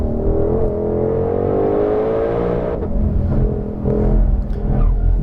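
A 2020 Ford Mustang Shelby GT500 engine roars on a race track, its pitch climbing as it accelerates. The note drops with a shift and then builds again, loud and close.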